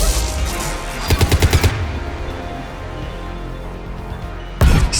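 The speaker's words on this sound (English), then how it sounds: "I can't do anything with that gunship shooting me" Rapid bursts of gunfire from a gunship in the Mass Effect 3 video game, a fast string of loud shots near the start followed by a steady rumble and another heavy burst at the end.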